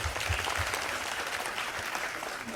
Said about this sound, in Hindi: जोरदार तालियों से स्वागत कीजिए दर्शन का